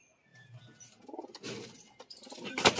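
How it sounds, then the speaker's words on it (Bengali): Kaldam pigeons, a male and a female, give soft low cooing close by, followed by louder rustling and handling noises, with no talking. "বেস্ট কোয়ালিটির কালদম কবুতর।"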